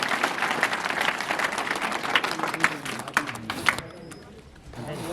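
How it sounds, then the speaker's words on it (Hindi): Loud, dense applause from a large crowd at a Bhil Adivasi community gathering for the Rana Punja Bhil Jayanti fair at Haldighati, sustained for several seconds and then dropping away sharply near the end. "एक बार जोरदार तालियों के गड़गड़ाहट के साथ स्वागत"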